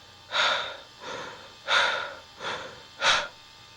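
A human voice imitates disembodied breathing: a series of heavy, airy breaths in and out, evenly spaced and close, cutting off abruptly after the last one.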